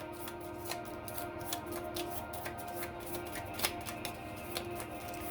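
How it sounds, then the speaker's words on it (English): Tarot cards being shuffled by hand, a dense run of quick papery riffles and soft clicks at close range, steady and fairly quiet with no talking. "It's going to be a little hard to shuffle, but we got it."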